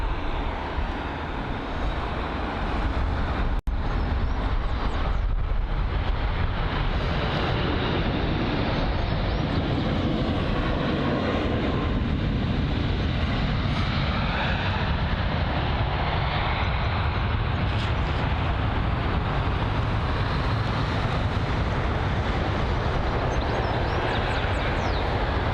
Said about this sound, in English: Airlines A380 is on arrival for runway 27 right.